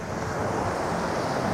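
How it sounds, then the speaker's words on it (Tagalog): Surf on a beach in Zambales rolls in as a continuous loud wash of breaking waves, with wind rushing against the microphone throughout. "Dito tayo sa dagat."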